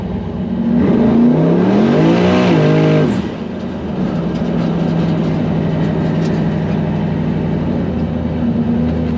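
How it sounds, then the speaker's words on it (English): A twin-turbo Hemi car pulls hard through first and second gear, a loud rising engine roar that climbs, shifts and climbs again before settling into a steady drone. "Little tire smokage. Little first gear, a little bit of second gear."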